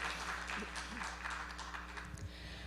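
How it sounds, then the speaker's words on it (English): Audience at a Seoul sports diplomacy forum applauding after a keynote speech, a fairly faint continuous patter of clapping with bits of talk mixed in. "please give him another round of big applause"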